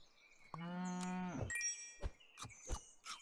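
A cartoon cow from the video game Super Auto Pets gives one drawn-out, harmonic moo, followed by a few short chimes and clicks from the game, with no talking.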